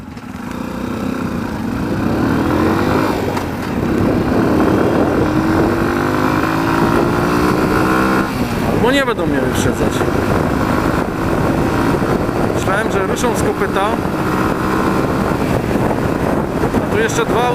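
Loud engines roar past the microphone with heavy wind buffeting, as big, powerful motorcycles rise and overtake a Junak RX 1 motorcycle close by, their pitch sweeping through the noise.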